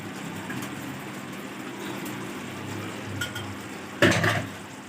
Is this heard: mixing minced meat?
yes